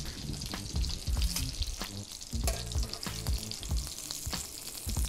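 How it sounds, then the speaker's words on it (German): Steady sizzling and crackling of breaded chicken schnitzel frying in hot fat in a pan, with occasional scraping and clinks, fairly close and continuous. "ein Schnitzel braucht Fett zum Braten"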